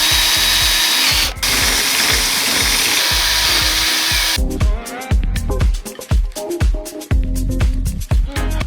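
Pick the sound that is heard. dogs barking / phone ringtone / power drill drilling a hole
power drill drilling a hole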